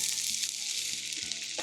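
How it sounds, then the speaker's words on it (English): Onions sizzle loudly in hot oil in a pan, a bright, crackling hiss that stays constant and close throughout. "when the onions hit the oil, they start with a sizzle"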